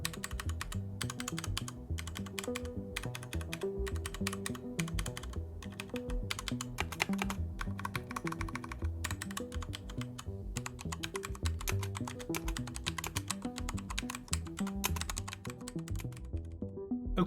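Fast, steady typing on a BladeMaster PRO wireless RGB mechanical gaming keyboard fitted with Cherry MX Speed linear switches, a continuous close-up clatter of many keystrokes with no talking.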